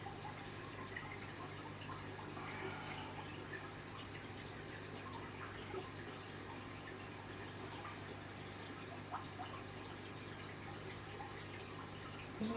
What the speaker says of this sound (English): Isn't that lovely noise of the water coming out of the filter?